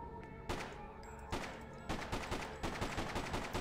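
Gunfire in the video game Freedom Fighters, fought in a subway tunnel: sharp shots cracking out one by one at first, then quicker bursts in an uneven rhythm, fairly close and punchy over a steady game background.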